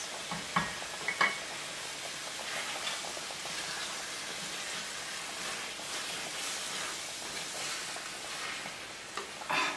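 Pasta in tomato sauce sizzles in a pan, a steady crackling fry with occasional stirring clatters, close and continuous without any talking.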